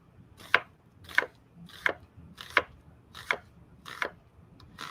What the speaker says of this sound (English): all we want to do is slice the red onion